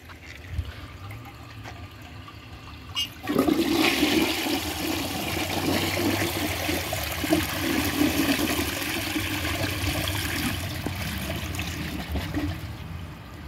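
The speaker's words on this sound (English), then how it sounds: "It almost double flushed there." A Compton toilet flushing: a sudden loud rush of water surges in and keeps swirling and draining steadily, nearly triggering a second flush, close and alone.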